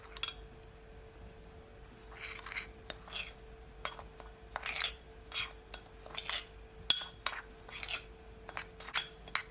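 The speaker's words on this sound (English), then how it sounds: "now I'm gonna take my spoon and just mix it all in" Spoon clinking and scraping against a bowl while mixing seasoning into shrimp, a close series of light irregular taps and short scrapes, fairly quiet.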